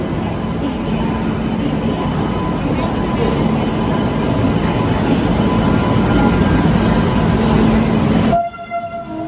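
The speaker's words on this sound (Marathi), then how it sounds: "आमची आता आलेली आहे ट्रेन तुम्ही बघू शकता इकडे" A train rolls loudly and steadily into a station at night, a constant rumbling roar that stops abruptly near the end, leaving a quieter hum.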